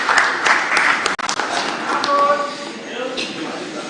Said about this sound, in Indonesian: Kita berikan tepuk tangan yang meriah buat Pak Ganjar Pranowo dan Prof.